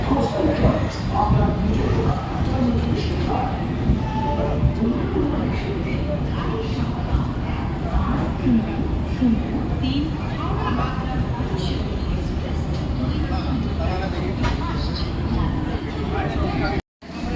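A crowded platform at Kharagpur railway station as the Digha–Puri Samudra Kanya Express pulls in: a steady, dense rumble of the train mixed with loud crowd babble and a narrator talking throughout.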